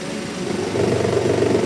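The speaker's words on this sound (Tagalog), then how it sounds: "Umiikot naman yung radiator fan motor." A car's radiator fan motor spinning steadily with a continuous, even whirring hum, close and moderately loud, with no talking.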